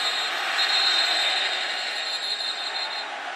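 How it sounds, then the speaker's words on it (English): A West Virginia Mountaineers home crowd roars after a touchdown in a college football game against Texas, a dense, sustained wall of cheering that fills the stadium at steady loudness. "he's got this Mountaineer crowd in a ruckus"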